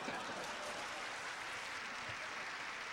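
Studio audience applause for Milton Berle at a 1974 celebrity roast, a steady, even wash of clapping that lasts throughout, heard faintly as if from a distance.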